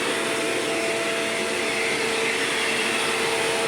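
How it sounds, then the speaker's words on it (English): A Shark Rotator True Pet vacuum cleaner runs steadily while vacuuming a floor, a loud constant motor whine and airflow roar with no pauses, close by. "I'm gonna vacuum this floor and get it nice and clean"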